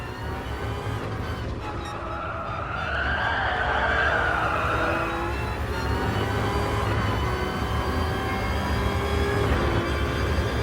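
Gr. 1 race car tyres skid in a video game at the Red Bull Ring, a sustained screeching slide over the steady engine drone as the rear end steps out, continuous and fairly loud with no talk.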